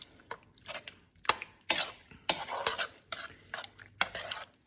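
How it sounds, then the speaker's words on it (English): Casserole ingredients are stirred together in a bowl for a baked ravioli casserole, with wet, squelching scrapes coming in irregular bursts, close and clear, with no talking. "Then all we're going to do is stir that together."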